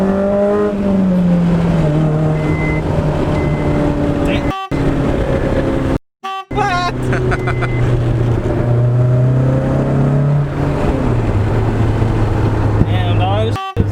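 A Honda S2000 sports car accelerating hard from inside the cabin, its engine note climbing through the gears in steady rising sweeps with brief shift breaks, loud and close under occasional passenger talk.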